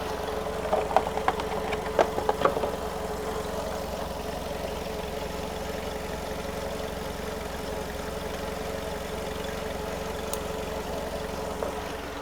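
A Volkswagen car engine idling during diagnostic testing, a steady even rumble with a few light clicks near the start, close and continuous with no voices.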